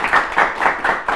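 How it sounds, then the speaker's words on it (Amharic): An audience claps in quick rhythmic bursts for two student contestants on a televised children's quiz show. The clapping is close and steady, with no talking over it. "እሺ ለሀሴትና ለቃል ኪዳን በደንብ አድርጋችሁ አጨብጭቡላቸው"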